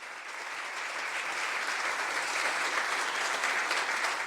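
A round of virtual applause during an online poetry show, dense continuous clapping that swells slightly and holds steady with no voices over it.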